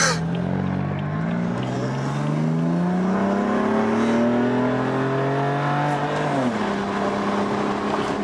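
A BMW M4 drives and accelerates through the gears in a drifting session, a loud continuous engine note rising steadily in pitch, dipping at a shift, then climbing again.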